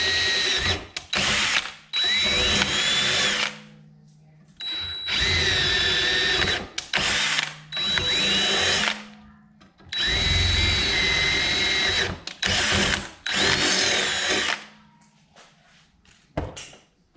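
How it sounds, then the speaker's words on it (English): A power drill whirs loudly in repeated bursts of several seconds each, drilling mounting holes for an ARB twin pump compressor on a Jeep Cherokee XJ, with short pauses and clicks between runs, close by. "So I'm gonna mount that up here, drill holes straight through it."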